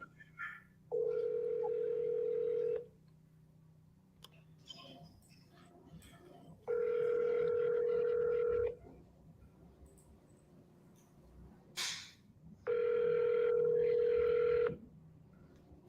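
Auto-dialer placing a call to a telephone, with three long, steady ringback tones separated by short gaps and faint background noises, no talk.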